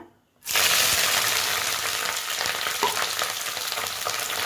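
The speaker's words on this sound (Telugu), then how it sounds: "ఆయిల్ వేడవ్వాక ఉల్లిపాయలు వేసుకుని బాగా గోల్డెన్ కలర్ వచ్చే వరకు కూడా ఫ్రై చేసేసుకోవాలన్నమాట" Onions hitting hot oil, a sudden loud burst of crackling sizzle after a brief near-silence, then a dense steady frying hiss with light stirring, close and alone.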